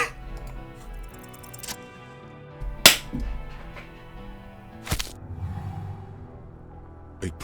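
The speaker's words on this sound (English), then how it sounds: "A plume of smoke and fire erupts from the gun, and your hand goes numb from the explosion" A single sharp gunshot blast from a handgun in the detective game Disco Elysium, loud and close, set among sparse ticking clicks and quieter low thuds in a dim, music-backed scene.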